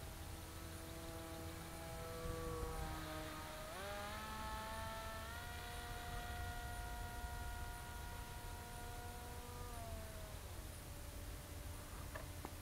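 A King Bee V-II model airplane flies at one-third throttle, its engine a distant, steady buzzing drone that shifts in pitch as it passes, under constant wind-like background noise.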